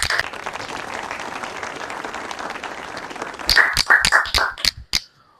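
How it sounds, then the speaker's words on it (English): A small group applauds a sponsor at a student podcast event, clapping at a moderate volume for a few seconds, then ending in a handful of loud, separate close claps. "Let's give an applause to Bank Negara Malaysia."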